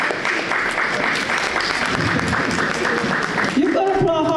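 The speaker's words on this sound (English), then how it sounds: "Let's give Jasmine a big applause." Audience applause at a high school graduation ceremony, a loud, continuous spread of clapping that gives way near the end to a voice over a microphone.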